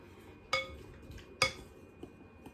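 A utensil stirs seasoned chicken and Brussels sprouts in a pan, giving two sharp metallic clinks about a second apart and a faint scrape afterward, quiet and close.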